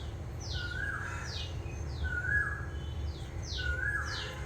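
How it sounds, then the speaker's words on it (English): A bird sings outdoors in a run of short, bright, repeating chirps and whistled notes, moderately faint against a steady low background hum, with no talking. "do you hear the bird? Do you hear it?"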